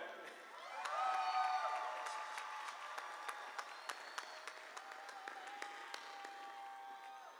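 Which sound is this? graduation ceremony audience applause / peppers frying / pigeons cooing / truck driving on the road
graduation ceremony audience applause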